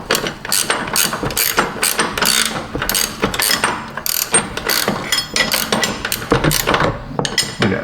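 Ratchet wrench clicking rapidly in repeated bursts while working on the upper control arm of a Chevy Tahoe, close and fairly loud, with metallic ticks throughout and no talking.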